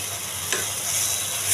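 Fried green banana koftas being stirred into a cooked spice paste in a pan, a brief scrape of the spoon over a steady soft sizzle, close and fairly quiet.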